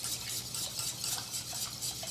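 A whisk stirring cheese sauce in a pot for mac and cheese, close and continuous rapid swishing and light scraping with a quick steady rhythm.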